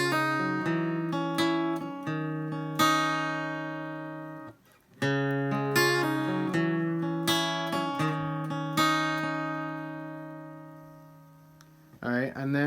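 Guitar playing the opening riff of a song slowly, with clear plucked single notes ringing out over open strings, a brief pause midway, then the phrase resumes alone.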